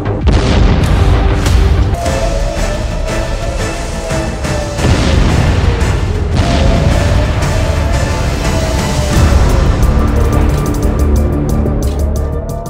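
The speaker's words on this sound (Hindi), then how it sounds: "ईरान ने इजराइल के रिहायशी शहर बेरशेवा पर मिसाइलें दागी" Iranian missile strikes on the residential city of Beersheba, Israel, producing a sustained heavy rumble of booms and blasts, loud and continuous, with a rising whine threading through the roar.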